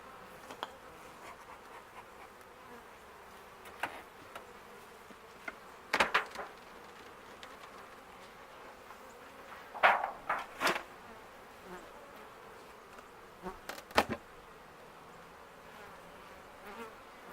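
Honey bees buzz around a hive during a colony split, a faint steady hum with several individual bees droning close past at intervals, alongside occasional light knocks and scrapes.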